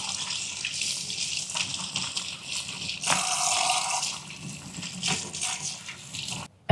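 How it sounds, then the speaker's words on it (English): Chicken wings are rinsed under a running kitchen tap, a steady close splashing rush of water with surges as the wings are moved about, ending abruptly. "I wanna get my wings rinsed first. I wanna get them clean. So I'm just gonna give them a rinse first."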